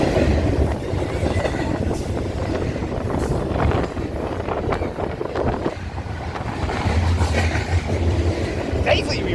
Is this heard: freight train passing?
yes